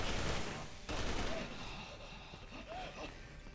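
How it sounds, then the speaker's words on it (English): Rapid video game gunfire in Resident Evil 6, shots fired inside air vents, a burst of dense crackling shots followed by quieter scattered pops with a voice talking over them. "Wait, so Chris doesn't hear me shooting in the vents?"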